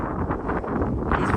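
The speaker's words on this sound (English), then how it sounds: "I'm very sorry about the wind." Strong gusty wind buffets the microphone throughout on a walk around an outdoor pet cemetery, a steady loud rumbling roar with no voices.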